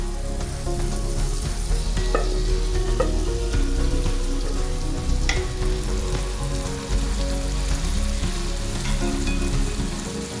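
Boiled mushrooms fry in a thick Kerala-style gravy in a pan. A loud, dense sizzle bubbles continuously, with occasional stirring scrapes and light clinks throughout, and no talk.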